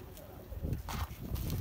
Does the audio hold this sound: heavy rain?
no